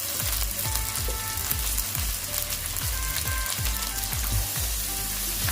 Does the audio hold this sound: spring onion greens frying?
yes